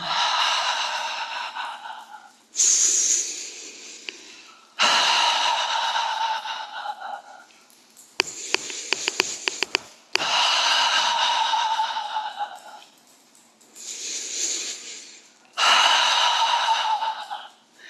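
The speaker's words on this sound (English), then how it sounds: "use the ha and shake, so I'm pulsing with the heels and just shaking everything up, breathing in through the nose" A person doing a qigong shaking exercise lets out a series of forceful, breathy "ha" exhalations, each lasting about two seconds with brief pauses between them. The breaths are loud and close, and there is some rapid tapping or shaking noise partway through.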